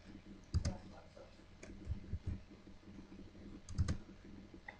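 Quiet clicking of keys on a computer keyboard during a PHP tutorial, with short irregular bursts of typing and a brief pause in between; no talk.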